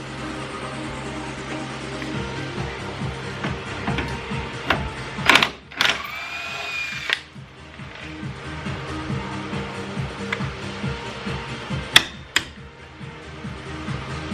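Wrench working on bolts under a drift car during a strip-out, with irregular metallic clanks, ratcheting and scraping close by, a few sharp knocks and a longer grinding squeal, no talk.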